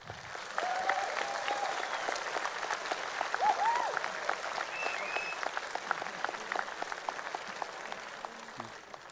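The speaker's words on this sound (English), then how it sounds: "Give a big round of applause" Crowd applause at a League of Legends esports tournament, fairly faint and distant, a steady roll of many hands with sharper individual claps standing out and a few voices and whistles over about nine seconds.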